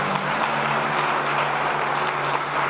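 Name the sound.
congregation applauding in church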